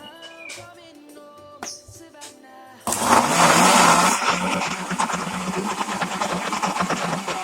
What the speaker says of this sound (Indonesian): ketiga adalah blender bonggol pisang yang sudah terpotong ini.